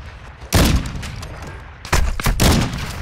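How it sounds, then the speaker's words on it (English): Mortar strikes in a video game land close by as three heavy, booming explosions, each followed by rumbling decay, with the second and third arriving in quick succession. "Yep, I'm in the mortar strike radius"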